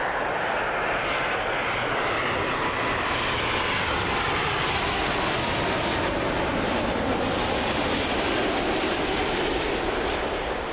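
An airplane takes off from Toronto Pearson airport, its engines roaring loud and steady throughout as a dense, continuous broadband rumble, close by and with no talk over it.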